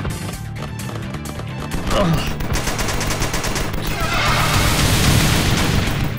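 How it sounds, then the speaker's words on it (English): A super machine gun fires in long rapid bursts of dense, crackling shots, loud and close, building into a sustained barrage, with booms and shouting voices mixed in. "Super machine gun."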